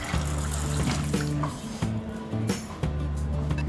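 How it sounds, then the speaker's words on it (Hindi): Water poured into a bowl of sprouted field beans for a Maharashtrian rice dish, a steady close splashing and trickling stream running under a low hum. "इसमें पानी डालेंगे।"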